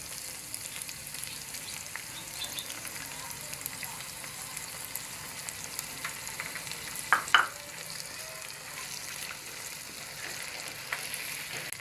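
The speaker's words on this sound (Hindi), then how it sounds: "अब अदरक और लहसुन को अच्छी तरह से भून लेंगे जब तक इसका कच्चापन दूर नहीं हो जाता" Ginger garlic paste and tomato frying in a pan for a beef paya dish, a soft steady sizzle throughout with a brief stir or scrape partway, no talking.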